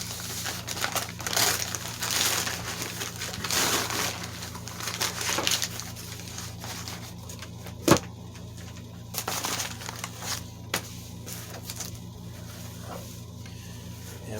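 A plastic bag from a box holding a 4-inch three-jaw gear puller crinkles and rustles close by in bursts over a low steady hum, quieting midway with a sharp click and a few later rustles.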